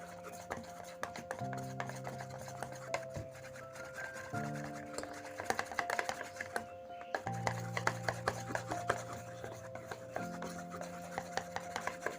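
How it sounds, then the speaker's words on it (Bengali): A hand beater whisks carrot pitha batter in a bowl, giving a continuous rubbing, rattling churn with quick clicks against the bowl under a steady background hum, with no talking. "এভাবে হ্যান্ড বিটার দিয়ে ভালো করে বিট করতে হবে।"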